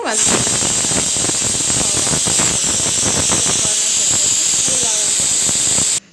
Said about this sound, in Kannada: ಈಗ ನಾನು ಕುಕ್ಕರ್ ಲಿಡ್ ಕ್ಲೋಸ್ ಮಾಡಿ ಒಂದು ವಿಸಿಲ್ ಬಿಟ್ಕೊತೀನಿ ಸಾಕು